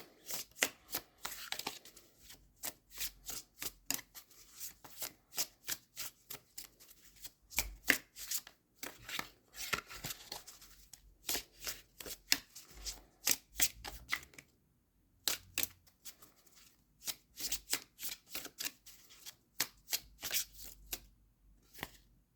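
Seed and Sickle oracle cards shuffled by hand, a long run of quick riffling and flicking bursts with brief pauses between, close and fairly quiet, with no talk.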